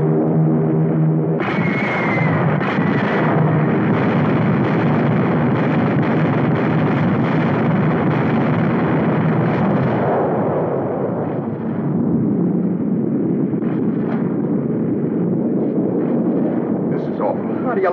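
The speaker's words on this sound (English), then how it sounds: "How do you like them guys bombing San Francisco yet?" Wartime bombing of San Francisco in a 1952 film: a loud, sustained roar of explosions and rumbling blasts fills the scene from about two seconds on, with wind-like noise and music-like tones early, easing somewhat after ten seconds.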